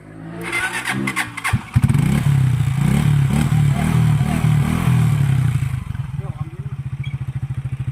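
A SkyGo 125 motorcycle labours up the steep Snake Road, its engine revving hard in a loud, strained, pulsing drone before dropping to a rough, rhythmic idle, with people talking nearby.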